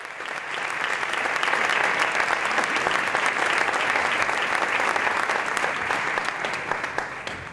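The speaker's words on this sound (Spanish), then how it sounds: "Así que le vamos a dar un aplauso." A large crowd applauds steadily at a presentation ceremony for the new palio of the Virgen de la O in Jerez, with sustained, even clapping that swells and holds for the whole stretch.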